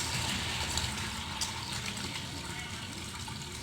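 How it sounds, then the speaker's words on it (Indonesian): Hands are washed up to the elbows with soap under a running tap, with a continuous, fairly close gush of flowing water and light splashing throughout. "Cuci tangan sampai ke siku dengan air mengalir dan sabun."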